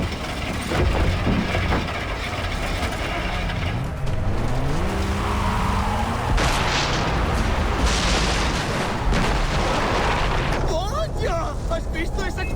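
Loud explosion rumbles during a vehicle escape in the video game Far Cry 3, with engine noise and tire squeals throughout and voices talking over it.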